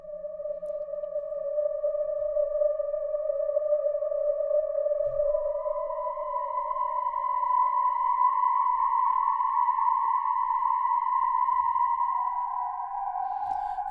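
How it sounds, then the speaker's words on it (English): A sustained Arturia Prophet 5 synthesizer string pad holds long, wavering tones that slowly shift in pitch from LFO modulation, washed in a spacious reverb, with no other sounds. "A key instrument here is this Prophet 5 from Arturia."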